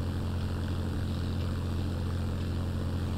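Propeller airplane engine droning in the Roblox game Plane Game, a steady loud hum with a constant low tone and no change in pitch, heard alone without talk.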